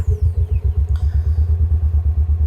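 A 2023 John Deere XUV 590E Gator utility vehicle's engine idles with a steady, loud low chugging pulse close by, with a brief higher clatter and whine near the start.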